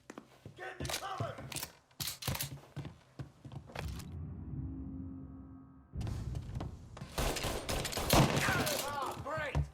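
Gunfire in the video game Mafia: Definitive Edition, with rapid bursts of shots close by, a brief lull, then dense renewed firing mixed with game voices.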